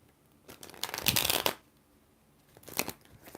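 Tarot cards being shuffled by hand, two bursts of quick riffling and flicking, the first longer and louder, the second shorter, close to the microphone with no talk.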